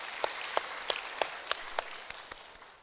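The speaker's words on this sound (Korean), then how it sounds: "우리 뜨거운 격려의 박수 부탁드립니다." A church congregation at a Sunday service claps after a choir, heard as a sparse run of distinct, evenly spaced sharp claps over a soft background patter, fading slightly toward the end.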